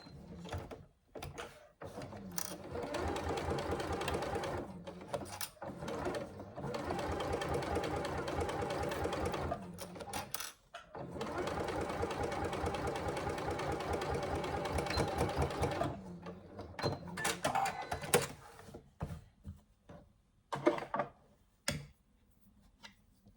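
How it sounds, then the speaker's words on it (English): A sewing machine top stitches along the upper edge of a canvas hobo bag pocket, running in long steady bursts with short pauses between, close and loud with no talking. "we'll be top stitching along this top edge"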